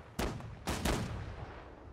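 Cannon fire in Holdfast: Nations At War during a naval fight, with two heavy booming blasts, the second a double report, rolling out over a rumbling battle backdrop.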